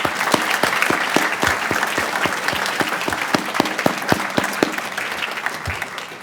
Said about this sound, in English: please give all of our interns this summer a round of applause